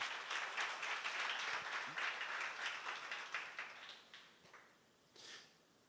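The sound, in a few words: audience applause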